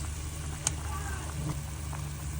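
Sliced onion dropped into a hot pan for a Visayan utan vegetable dish, giving a steady close sizzle and frying hiss that runs the whole time, with a small clink near the start.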